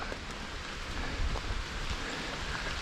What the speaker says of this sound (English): It's been trying to rain now